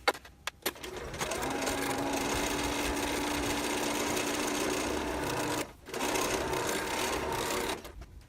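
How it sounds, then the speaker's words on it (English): Sewing machine chain stitching pieces of fabric one after another for grocery bag storage, a steady loud mechanical whir running continuously with one brief pause before resuming, alone without talk. "So here's what I mean by chain stitching."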